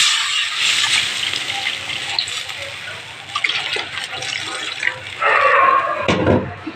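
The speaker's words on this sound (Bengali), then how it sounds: "দেখো আলু বেগুন হালকা ভেজে নিয়েছি, এবার আমি জল দিয়ে দেবো" Water poured into a pan of lightly fried potatoes and eggplant, a rushing splash that swells loudly near the end, over a kitchen background.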